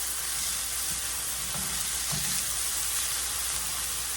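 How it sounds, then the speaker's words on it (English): Peppers and onions sauté in a pan for southwest egg rolls, a dense, even hiss of frying that stays steady and fairly loud, broken by a couple of faint stirring knocks and no speech. "We're gonna let these kind of saute around a minute. Our peppers and onions."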